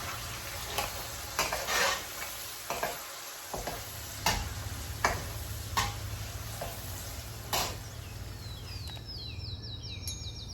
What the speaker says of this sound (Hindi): तो टमाटोज को हल्का कुक होने देंगे।